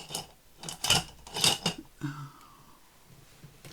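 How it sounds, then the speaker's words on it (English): Rasping crafting cuts as a card centre is trimmed out with a Timmy trimmer, several scraping strokes close by, followed by a softer sliding sound with no talking. "now I can cut out my centre"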